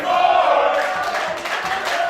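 At a Prestige Wrestling event, an arena crowd cheers and shouts as one continuous roar, loud and close throughout.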